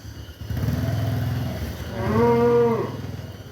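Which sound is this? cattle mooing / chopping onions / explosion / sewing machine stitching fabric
cattle mooing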